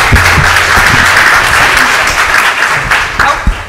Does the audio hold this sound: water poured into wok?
no